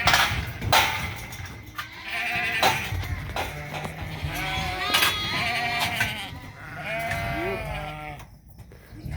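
Sheep bleating repeatedly and overlapping in a crowded farm corral as two young men grab them during sorting day, with scuffling, hoof knocks and brief voices mixed in, close and fairly loud throughout.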